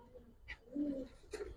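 A pigeon gives a short, soft coo close by, with faint background sound around it.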